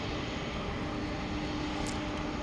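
UPS Flight 751, a heavy cargo jet bound for Louisville, taxiing at night at DFW Airport, a steady distant engine roar with a faint constant whine, fairly quiet and unchanging throughout.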